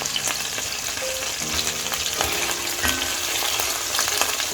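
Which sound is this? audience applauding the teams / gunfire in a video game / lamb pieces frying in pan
lamb pieces frying in pan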